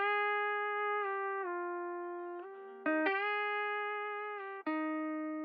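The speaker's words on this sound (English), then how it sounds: "So the guitar twang is from Arcade" A dry, unprocessed guitar twang sample from Arcade's Familiar Highway plays a short sequence of sustained, bright plucked notes that step between pitches, clean and close with no effects added.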